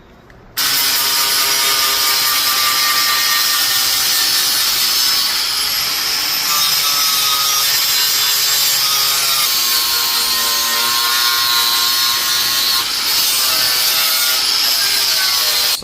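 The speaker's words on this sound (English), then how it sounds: "It's the grinder tool, but with a wire wheel." An angle grinder fitted with a wire wheel scours metal on a 1991 Honda CRX Si, a loud, continuous harsh whine and scratchy rasp that holds steady, shifting slightly in pitch as it bears down.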